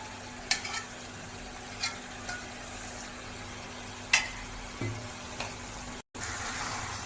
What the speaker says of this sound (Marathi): आणि हे सगळं मिक्स करून घ्यायचं आहे